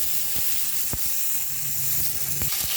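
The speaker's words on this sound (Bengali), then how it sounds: "পটলগুলো আমি নুন হলুদ কিন্তু না মাখিয়েই তেলে ভেজে নিচ্ছি" Pointed gourds fry in oil without salt or turmeric, giving a faint, even sizzling hiss with a few soft pops and taps, and no voices.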